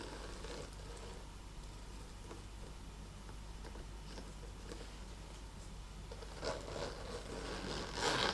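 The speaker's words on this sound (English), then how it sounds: "has a zipper." A purse zipper slides open near the microphone with a soft, continuous scratchy rasp, getting stronger and more rapid toward the end.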